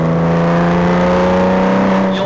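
Hand-built Porsche R43 flat-six engine revving on a test stand, a loud, close, sustained mechanical drone with a steady rising tone and no break.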